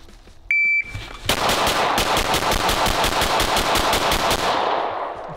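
At a shooting range, a short shot-timer beep is followed by a fast, loud string of pistol shots from a TTI Combat Master or Pit Viper, fired in rapid, evenly spaced succession for several seconds.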